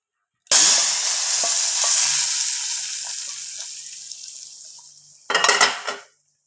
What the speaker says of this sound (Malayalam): നമുക്ക് കടുവ് വറക്കണം